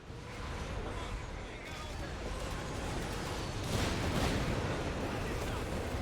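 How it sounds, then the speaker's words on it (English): Nebelwerfer rocket artillery in Company of Heroes 3 fires in a dense, rumbling barrage of blasts and crackling impacts that swell louder near the end, with a voice talking over the battle din. "I'm doing a good job of dodging these Nebelwerfer shots as well"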